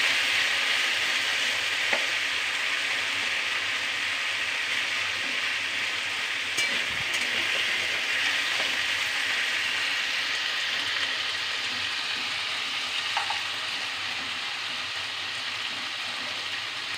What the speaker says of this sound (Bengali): আলুটাকে একটু ভাজা ভাজা করে নেব,